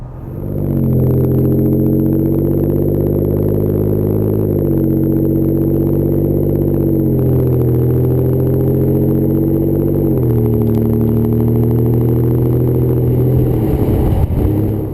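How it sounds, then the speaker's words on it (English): Ford F-150 pickup from 2015-2016 with a turbocharged engine and a Roush 3-inch stainless steel side-exit cat-back exhaust, heard driving under power. The engine note is loud, close and steady, with gentle rises in pitch and no talking. "You can hear the turbos a little bit through the exhaust."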